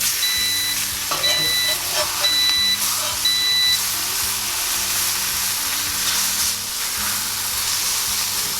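Slices of bologna fry on a griddle with a steady close sizzle throughout, a few electronic beeps sounding early on and a voice speaking over it.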